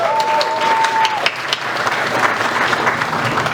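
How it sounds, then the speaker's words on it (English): Audience in a room applauds supporters, delegates, volunteers and campaign team at a DFL endorsement celebration for a Ramsey County Commissioner candidate; steady dense clapping throughout, with a brief tone at the start. "Give yourselves a round of applause."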